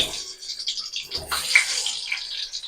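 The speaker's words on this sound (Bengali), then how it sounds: "তেলের মধ্যে আমি একে একে পটলগুলোকে ছেড়ে দেবো।" Pieces of pointed gourd (potol) coated in salt and turmeric hiss and sizzle in hot oil in a pan, a steady close frying crackle with brief bursts as more pieces go in.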